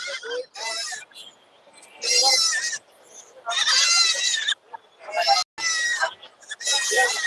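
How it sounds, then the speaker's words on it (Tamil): Young goat kids bleating, three male kids on a farm, with repeated high wavering cries in bursts close by, while people talk in the background. "அடுத்து கண்ணில சேர்ற ஆட்டுக்குட்டி"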